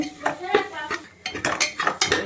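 Turmeric and half a spoon of garam masala being stirred in a pan, a spoon scraping and clinking against the metal in quick repeated strokes, fairly close and moderately loud, with no one talking.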